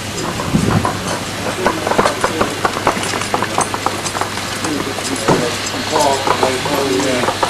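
A train clatters and rumbles at a Mid Hants Railway station platform, with rhythmic clanks close by and voices speaking over the noise.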